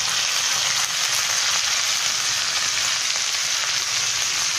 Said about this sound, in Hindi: अब हम इसे भून लेंगे। अब हम इसमें हल्दी डालेंगे,